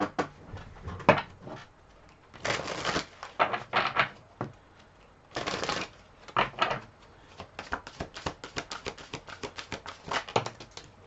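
Tarot cards being shuffled and pulled, giving soft papery riffles and flutters in bursts, then a run of quick close taps and flicks as cards are handled and laid down.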